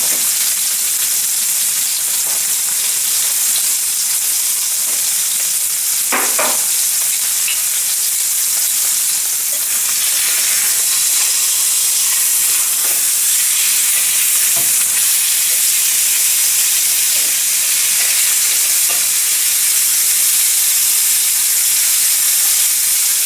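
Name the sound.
filet mignon searing in butter in a pan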